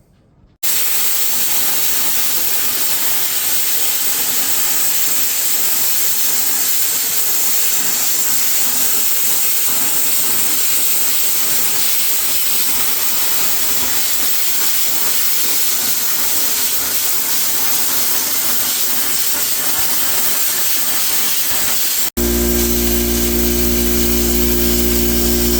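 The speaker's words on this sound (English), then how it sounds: "I'm cutting this to go on the inside of the sides here" Sheet metal for a homemade yard trailer is cut with a power tool, a loud, continuous hissing grind that runs for over twenty seconds before giving way to a lower steady hum.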